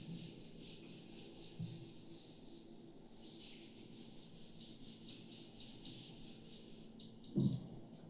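Something rubs across a board to erase it, a soft, steady scraping that holds for several seconds, faint and close with a small knock near the end and no talking.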